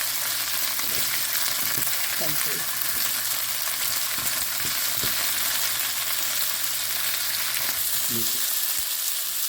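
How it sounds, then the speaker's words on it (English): Potatoes and peas frying in a pan give a constant crackling sizzle, with a few light knocks and stirs scattered across it, close and steady with no one talking. "I'm going to add my peas now and let it cook for another minute or 2."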